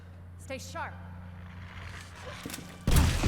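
Gunfire from the Resident Evil 2 (2019) remake, a sharp loud burst arriving near the end after a stretch of quiet game ambience and a brief voice, with a steady low hum underneath.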